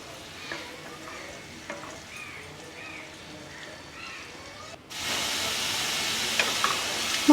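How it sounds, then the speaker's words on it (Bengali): Spices and chana dal frying in oil for a vegetarian tobkar tok, a low steady sizzle with soft stirring taps that jumps to a much louder, brighter hiss partway through. "এটা আমি খুব ভালো করে তেলে ভেজে নেব।"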